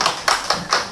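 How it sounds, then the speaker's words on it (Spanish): Four quick, evenly spaced claps ring out close by at a university talk on well-being, brief and sparse rather than a full crowd. "pedimos un aplauso para él"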